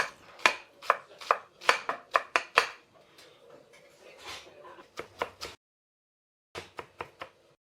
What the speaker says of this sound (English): We always chop everything finely